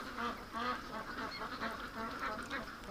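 Young Muscovy ducks give repeated soft quacks and calls close by, a quick run of overlapping notes with no pause.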